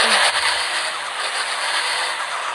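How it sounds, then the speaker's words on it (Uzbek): A car rushes past on the road, a loud broad roar of engine and tire noise that fills the moment and stays close, with no talk. "Mana yana mashina."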